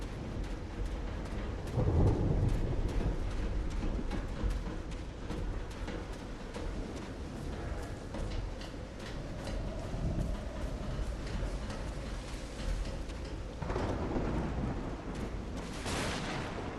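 A thunderstorm rumbles in the video game Call of the Sea, with low rolling thunder under steady rain, a heavy crack near the start and another swell of thunder toward the end.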